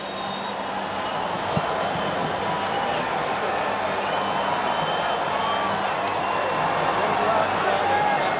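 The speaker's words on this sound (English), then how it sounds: "to hear this crowd erupt like that, absolutely sensational" A UFC arena crowd roars after a knockout, a dense, steady wall of noise with no sharp breaks across the whole stretch.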